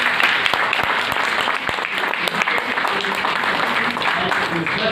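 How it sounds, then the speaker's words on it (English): Audience applause following a geoscience lecture on radioactive waste, a dense steady patter of clapping filling the room for several seconds with some voices mixed in. "Let us give him a big clap."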